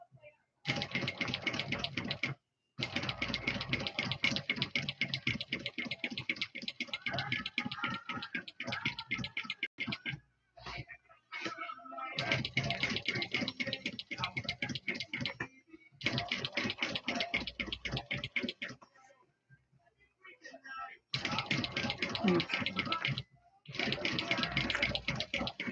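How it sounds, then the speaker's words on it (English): A sewing machine stitches around the edges of a Kirby backpack, running in long rapid buzzing bursts separated by brief pauses, close and clear. "I'm just gonna keep it as straight as possible and stitch it around the edges."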